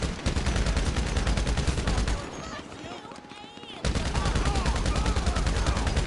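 Rapid automatic gunfire in GTA Online, dense loud bursts of shots that break briefly in the middle, then resume in a fast steady stream, with a voice talking underneath.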